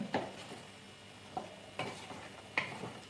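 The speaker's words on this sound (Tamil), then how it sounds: "இப்போ இதை நல்லா பிரட்டி விட்டுடலாங்க." A utensil scrapes and knocks in a pan a few times at irregular intervals while stirring frying garlic chicken, over a soft sizzle.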